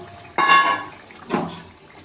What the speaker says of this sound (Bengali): এবার আমি যে মাছগুলো ভেজে রেখে দিয়েছিলাম সেটা আমি দিয়ে দেবো ঝোলের মধ্যে।